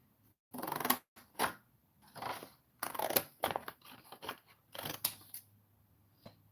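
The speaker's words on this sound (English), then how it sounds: "oh, this one I could cut it off quickly." Scissors snip through an old painting in a series of separate crisp cuts, each a short crunchy burst, close and loud with quiet gaps between them.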